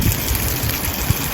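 Water spraying steadily from a DIY jerry can shower system on an overland vehicle, a continuous hissing rush with no talk over it.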